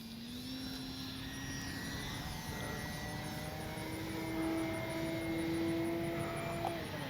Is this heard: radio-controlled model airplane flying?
yes